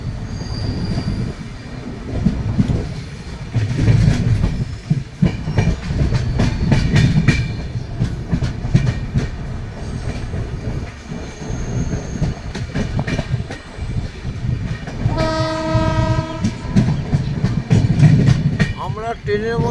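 A passenger train pulls out of New Maynaguri station, heard from inside a coach: a loud, steady rumble with rhythmic wheel clatter, and a squealing, tonal screech of the wheels partway through.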